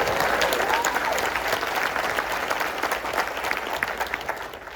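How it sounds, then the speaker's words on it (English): An audience at a community town hall in Houston claps for a teacher introducing herself, a sustained round of many-handed applause that holds steady and then slowly thins out. "Round of applause."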